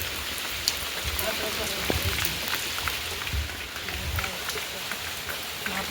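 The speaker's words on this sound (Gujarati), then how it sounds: "જોઈ શકો છો ફ્રેન્ડ, વરસાદ ચાલુ છે અમારે ત્યાં." Steady rain falls during a morning shower at a village home, a dense even patter on surfaces with occasional heavier drips, close and continuous, with faint voices in the background.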